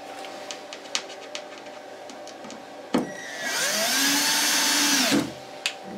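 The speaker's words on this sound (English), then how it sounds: "That's exactly another hole." A CNC machine cutting holes in a mylar speaker frame gives a loud, steady, whining cut of about two seconds with shifting pitch, preceded by scattered clicks and a sharp knock, then ending abruptly.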